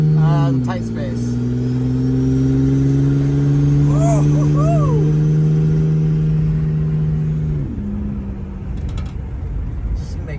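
A 1995 Ford Taurus engine, turbocharged and running without a wastegate, idles loudly and steadily with a strong low drone. Near the start and again toward the end it revs briefly and the pitch shifts, with a few faint squeaks above it.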